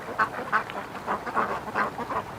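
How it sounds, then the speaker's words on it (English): Ducks quack in a steady run of rhythmic, nasal calls at close to moderate distance outdoors, about six or seven quacks in a couple of seconds with no talk. "Oh, there was a wild duck with them. It just flew off."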